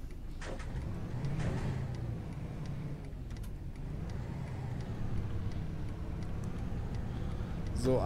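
A bus engine in the OMSI 2 driving simulator pulls away with a steady, quiet low rumble, a few faint clicks and knocks sounding over it.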